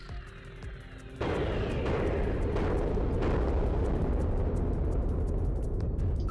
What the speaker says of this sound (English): Oh wow, I could not see a single thing in those explosions